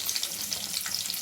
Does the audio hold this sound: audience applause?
no